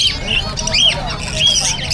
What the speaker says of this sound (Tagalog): Ang daming ibon ah.